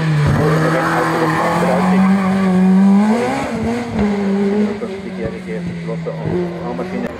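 Race car in the 2-litre class taking a curve at the Wolsfeld EMSC hill climb, its engine loud and close with a steady high drone and a rising, falling pitch as it revs through the bend, a commentator talking over it.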